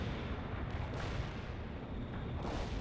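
Video-game artillery fire rumbles as a continuous, dense, booming roar that fills the whole moment, with no pause and no voices.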